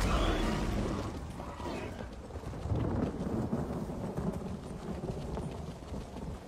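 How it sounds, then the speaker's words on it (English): Thunderstorm weather in the video game Elder Scrolls Online, a loud rolling thunder rumble fading over the first seconds, then steady rain with scattered hoof-like clopping beneath it. "So stormy today in ESO."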